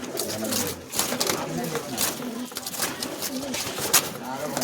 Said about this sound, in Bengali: খুব ছটপটে পায়রা, খাঁচায় ঢোকানো হয় না